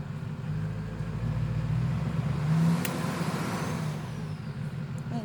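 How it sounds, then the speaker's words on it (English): A truck idles and rumbles nearby outdoors during herb harvesting, a steady low engine drone that swells briefly midway with a sharp short squeak, no talking. "Sorry about the truck there."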